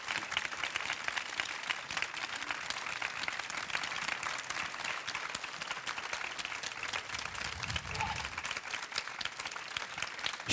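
A theater audience gives a long, warm round of applause to two authors at a music-themed event. The dense, steady clapping fills the hall without pause.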